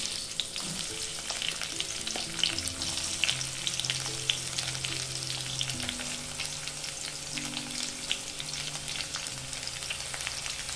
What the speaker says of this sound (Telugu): ఆయిల్ కాగిన తర్వాత ఇందులోకి ఉల్లిగడ్డ చీలికలు,